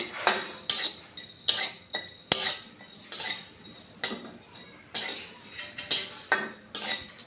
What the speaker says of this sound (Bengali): এবার শুকনো খোলায় এই মশলাগুলোকে ভেজে নিচ্ছি আমি